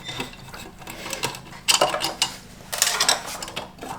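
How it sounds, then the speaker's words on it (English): Screws being removed from the start relay cover of a deep freezer, with small clicking and scraping tool-on-metal sounds in a few short bursts, close up and with no talk. "Now the first thing I need to do is remove these 2 screws"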